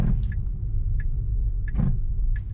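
Tesla driving on autopilot through San Francisco toward a stop sign, low steady road rumble inside the cabin with several short, evenly spaced clunks and ticks as the brakes engage abruptly.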